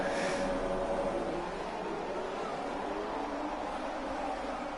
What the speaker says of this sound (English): Gears engaged, revs are up.